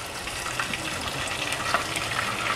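A semi-healthy meatloaf cooks off-grid, giving a steady, fairly loud sizzle and frying crackle that runs continuously without any talking.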